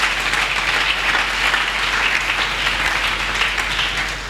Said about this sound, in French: Mais acclamons quand même pour le vrai.